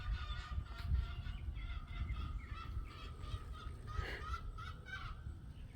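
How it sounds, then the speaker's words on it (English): Chickens squawk and cackle outdoors near a newly installed 8x10 shed, a steady run of overlapping calls at moderate distance over low wind rumble, with a louder burst around the fourth second and no talking. "I don't know if you could hear the chickens, but there's been massive chicken drama all morning."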